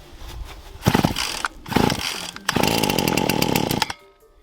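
Starter cord pulls on a Husqvarna 525RX brushcutter with choke set, several quick rasping tugs, then the two-stroke engine briefly catches and buzzes loudly up close before cutting out.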